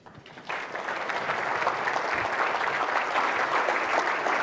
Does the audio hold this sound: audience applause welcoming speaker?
yes